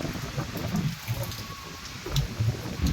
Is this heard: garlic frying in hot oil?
no